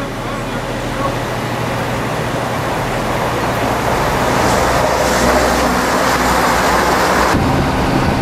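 A train travels toward Edale station in the Peak District, a loud, steady broadband rumble of wheels and motor that persists throughout, heard from inside the carriage with no talk.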